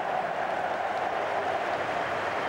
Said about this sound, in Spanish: Aplaude Wembley. La llegada de los campeones.